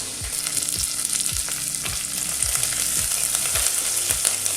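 Mustard seeds, cumin, crushed garlic and curry leaves sizzle steadily in hot oil while being stirred for tomato rice, with repeated scraping strokes of a spoon against the pan under continuous frying hiss.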